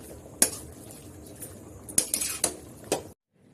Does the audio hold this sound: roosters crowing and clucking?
no